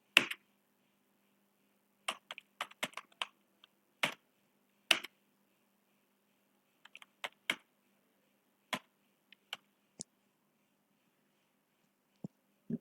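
Keys tapped on a computer keyboard while formatting a document make sparse, quiet clicks in short clusters separated by silent pauses, close and isolated.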